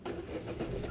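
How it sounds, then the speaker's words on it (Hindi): A car engine started with a push-start button, a short cranking catch that quickly settles into a steady low idle, close and clear. "यहाँ से आप अपनी गाड़ी को स्टार्ट कर लो।"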